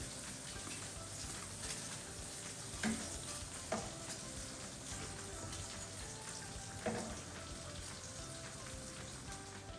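Bacon sizzles and crisps in a pan, a steady soft frying hiss with a few brief pops or stirring scrapes, fairly quiet and close.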